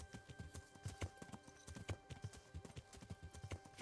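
Horse hooves gallop through woods in Kingdom Come: Deliverance, a quick, steady clip-clop rhythm of soft thuds heard fairly faintly and without pause.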